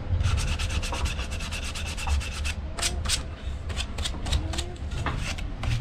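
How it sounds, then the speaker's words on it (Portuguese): Hand sanding of wood for a DIY reading-corner build, a quick series of rhythmic scratchy rubbing strokes, fairly close and steady, with faint background noise and no talk over it. "papai tá lixando a madeira já"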